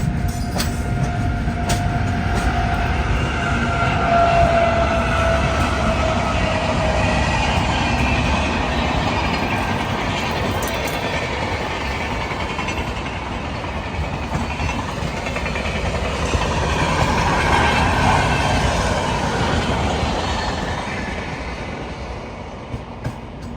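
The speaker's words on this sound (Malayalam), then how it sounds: "ഒരു ലോക്കൽ ട്രെയിൻ ഇപ്പൊ നൈസായിട്ട് ഓവർടേക്ക് ചെയ്യുന്നുണ്ടോ?" A local train overtakes on a parallel railway line, a long sustained rumble of carriages with rhythmic wheel clatter and occasional faint squeal, loud and close, rising and easing slightly over the passage.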